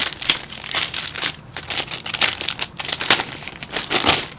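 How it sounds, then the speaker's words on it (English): An iPad Air 2 is peeled out of its plastic packaging, with loud, close crinkling and rustling of plastic in irregular bursts throughout. "Let's peel that out of its packaging."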